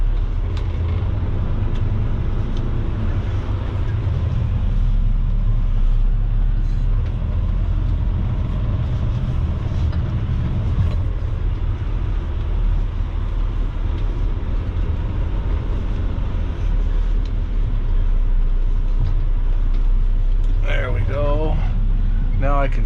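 A truck backs up slowly to line up a trailer, with a steady low diesel engine rumble throughout and someone talking over it, plus a brief squeal near the end.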